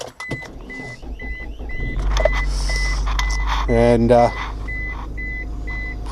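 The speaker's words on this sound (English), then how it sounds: "Let me fire up the car here." A car's engine fires up and settles into a steady low rumble, while a repeating electronic beep chimes throughout and someone talks nearby.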